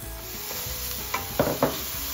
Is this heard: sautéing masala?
yes